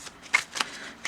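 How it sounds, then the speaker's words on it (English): Tarot cards are shuffled close up in quick riffling bursts, a few short papery flutters separated by brief pauses. "Yeah, they're pretty easy to shuffle"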